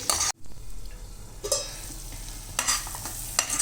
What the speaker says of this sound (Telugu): మనము ఉల్లికారాన్ని కూడా ఒకసారి తిప్పుకుంటూ ఉండాలి, ఎందుకంటే అడుగంటుతుంది